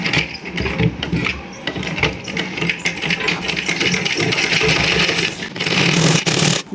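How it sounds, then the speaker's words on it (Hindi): A sewing machine stitches along the very edge of a folded fabric strip, running in a close, busy, continuous mechanical whir with rattly texture throughout. "देखिए, एकदम किनारी पर सिलाई लगाएंगे"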